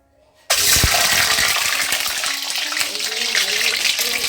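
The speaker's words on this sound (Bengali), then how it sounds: "ফুটছে দেখো ডিমটা" An egg drops into hot white oil in a wok and erupts into a sudden loud sizzle, then keeps crackling and sputtering steadily up close after a brief quiet lead-in.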